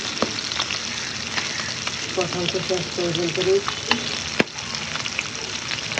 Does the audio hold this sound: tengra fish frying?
yes